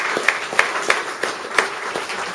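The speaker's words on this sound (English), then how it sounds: "please give a round of applause, if you would," Scattered applause from a small crowd at a motorbike show, a few distinct loud claps standing out over thinner background clapping, fairly close and brief.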